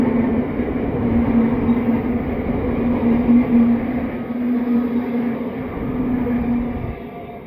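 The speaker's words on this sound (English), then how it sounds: "show you a few of the trains that pass through while I'm waiting" A Queensland Rail electric passenger train rolls past nearby with a steady rumble and a faint electric whine, a continuous mechanical roar throughout.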